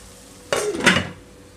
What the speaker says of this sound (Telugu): చింతచిగురు వేసాను కదా, లో ఫ్లేమ్లో పెట్టి మూత పెడుతున్నానండి